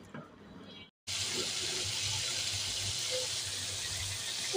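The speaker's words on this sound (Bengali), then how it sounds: "ঝিঙ্গাগুলো এখন কেটে ধুয়ে নিব" Cut ridge gourd pieces rinsed under steady running tap water into a sink in a home kitchen, a continuous close splashing gush after a brief silent gap, with faint talk underneath.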